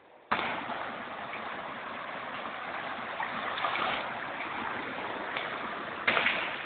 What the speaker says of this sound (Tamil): இந்த ஆறினுடைய ஒரு சிறு பகுதி இந்த தட்டப்பாறை தண்ணீர்.